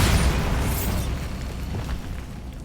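A loud blast from the Bombarda explosion spell in Hogwarts Legacy, a heavy boom that opens the clip and then rumbles and fades over a couple of seconds.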